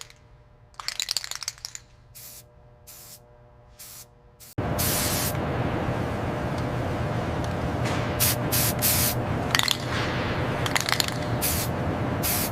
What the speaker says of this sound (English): Use the orange spray on those ribs.